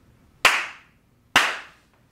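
Two sharp, close hand claps, about a second apart, mark the start of a recorded oral history interview in a quiet room, each a crisp snap with a short decay.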